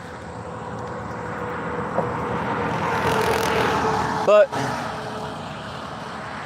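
A fixed-wing airplane flies near an airstrip, its engine drone rising and falling in the distance beneath a brief spoken word.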